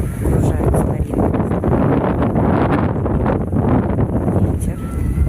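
Wind buffets the microphone in a town's central park near the main cathedral, a steady loud rushing roar that fills the whole stretch with gusty swells and no clear talk.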